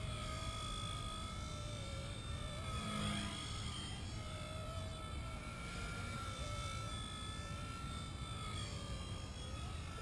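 A Blade mCP X 2 radio-controlled helicopter flies in a steady high whine with layered tonal rotor and motor hum that shifts slightly in pitch, continuous and fairly close, with no talking.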